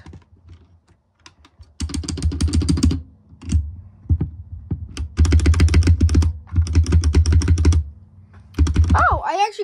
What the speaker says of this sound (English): Stabilizer sounds really good on this.